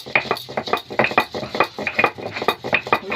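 Green chillies, garlic and coriander leaves ground into paste by hand, heard as rapid, rhythmic scraping and knocking strokes that repeat steadily and sound close.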